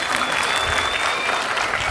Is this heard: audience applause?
yes